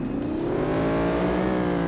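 Ford Mustang engine given a quick blip of the throttle, a close, loud growl whose pitch rises smoothly and then holds at a higher rev.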